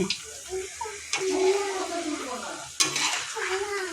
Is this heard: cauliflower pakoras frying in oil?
yes